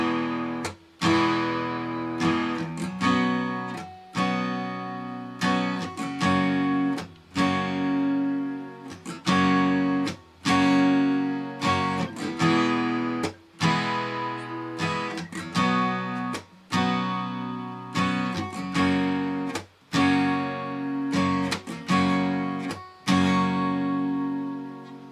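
An acoustic guitar strums the verse chords of a song at a brisk tempo, with steady rhythmic strokes and brief pauses between chord changes, close up and alone for about twenty-five seconds.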